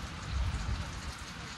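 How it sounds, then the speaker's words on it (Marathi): Steady rain falls continuously on an outdoor surface on a monsoon day, a dense even hiss with a low rumble, close and alone, with no voices. "ये पाऊस सुरू झालाय आज आपल्याकडे."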